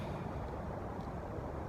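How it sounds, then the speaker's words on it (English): Distant highway traffic forms a steady, low broadband hum outdoors in a quiet natural setting, continuous and even throughout with no distinct vehicle passes standing out. "hum in the background of the highway"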